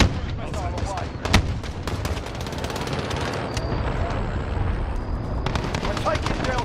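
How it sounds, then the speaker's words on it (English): Cruise missile strikes in a military shooter video game land as repeated loud blasts and crackling gunfire bursts, with a sharp heavy boom early on and a dense battle din throughout. "Enemy cruise missile incoming. Allied cruise missile away."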